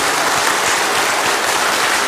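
An audience at a Buddhist book launch forum applauds to thank a guzheng orchestra and its performers, a loud, dense, continuous roar of clapping from a large crowd with no voices standing out.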